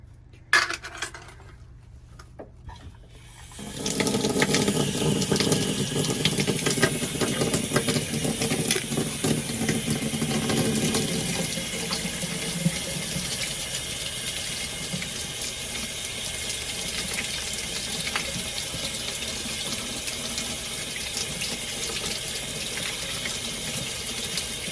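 Water pours steadily onto a SoundStream radio made for Harley-Davidson motorcycles, a sustained splashing stream that starts after a few seconds of quiet clicks and continues close and loud to the end.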